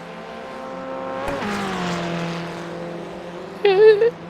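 A Formula Ford race car at Interlagos in a racing game, engine drone shifting pitch as a lapped car passes, with a brief sharp whine near the end.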